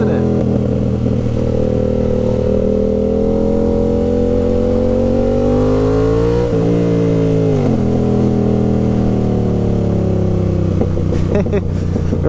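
A 2020 Yamaha MT07 motorcycle with a full GR Moto exhaust system roars loud and close, its engine note climbing and falling steadily through throttle changes, with a sharper rev dip midway.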